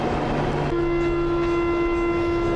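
A KTX high-speed train boards at Busan Station, giving a loud, steady mechanical hum with sustained tones that settle in after a brief noisy start, with no talking.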